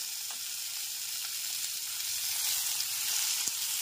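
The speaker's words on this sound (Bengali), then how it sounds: "আর দিয়ে দেব টমেটো কুচি।" Chopped tomato sizzling as it hits potatoes and okra frying in a pan, a steady, close hiss of frying that grows slightly louder, with no talk.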